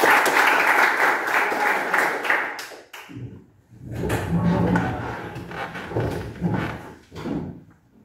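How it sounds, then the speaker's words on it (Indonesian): A class of students claps together at the end of a breathing exercise, a burst of group applause that breaks off briefly and then resumes with scattered claps and a few voices. "Tepuk tangan buat semuanya."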